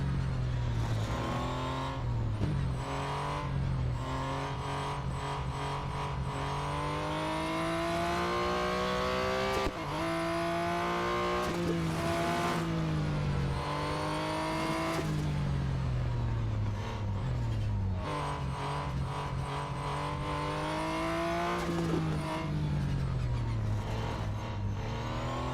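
A Mazda 787B race car in the racing game Real Racing 3 screams through repeated high revving pulls, its pitch climbing and dropping sharply with each gear change and corner, loud and continuous with no talk.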